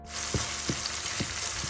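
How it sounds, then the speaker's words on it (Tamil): Two large chopped onions sizzling as they sauté in a hot pan, with a steady frying hiss and four soft stirring knocks spaced evenly through it, close and moderately loud. "நறுக்கி வச்ச ஒரு 2 பெரிய சைஸ் வெங்காயத்தை நம்ம இதை போட்டு வதக்கிக்கலாம்"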